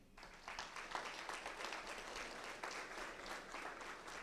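A church congregation applauding during a couples' gathering, a steady, moderately distant wash of many hands clapping that sustains for several seconds.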